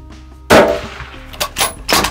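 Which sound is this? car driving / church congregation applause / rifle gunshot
rifle gunshot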